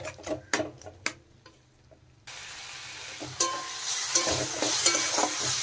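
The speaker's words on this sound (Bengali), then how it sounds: "নেড়ে চেড়ে কষিয়ে নিতে হবে ভালো করে।" Tomato puree and spices being stir-fried for an egg and potato curry: a steady pan sizzle with scraping strokes of a spoon, preceded by a few sharp clinks, close and moderately loud.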